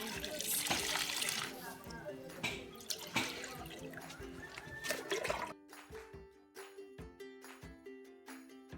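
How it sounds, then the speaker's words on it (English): Well water poured gently into a plastic tub holding pots and gravel, a soft steady splashing and trickling with scattered drips, close by and fading quieter near the end. "We are adding the water very gently just to make sure that the pots and the gravels stay in place."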